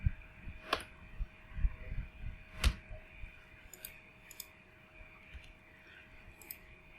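A computer mouse clicks while a chart is deleted in Excel: a few sharp, isolated clicks spaced seconds apart, close and fairly faint, over a steady background hum.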